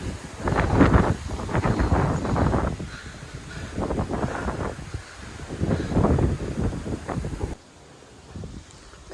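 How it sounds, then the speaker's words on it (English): Strong wind buffets a mountain ridge on a hike, arriving in loud roaring gusts that batter the microphone, easing between blasts and dropping to a near lull at the end. "Just listen to the sound of wind,"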